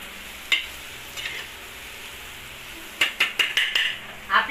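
Egg bhurji sizzling in a pan with a steady frying hiss, cut by a few scraping stirs early on and then a quick run of rhythmic spatula scrapes against the pan near the end, close up.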